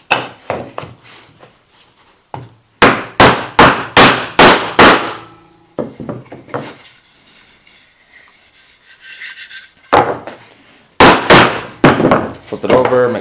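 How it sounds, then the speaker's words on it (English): A hammer or mallet taps camera obscura kit parts against a block, sharp loud knocks in quick bursts of several strikes with pauses between, along with softer rubbing and handling noises. "So, basic mallet or a hammer and a block."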